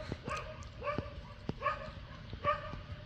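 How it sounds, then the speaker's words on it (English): A dog barking outdoors, roughly five short, fairly faint yips and barks spaced about half a second apart, with no talk. "I hear a doggy."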